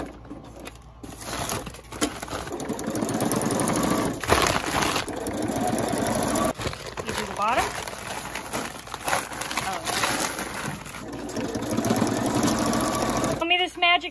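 A sewing machine runs in loud, close bursts while sewing a handle onto a plastic feed bag, with crinkling plastic between stretches of stitching and people talking over it.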